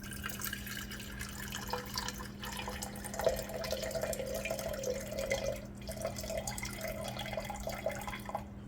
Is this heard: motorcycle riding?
no